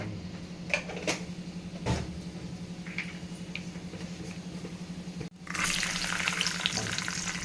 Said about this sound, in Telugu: నూనె వేసుకొని ఆవాలు ఈకర ఒక స్పూన్ ఆవాలు ఈకర వేసుకుందాం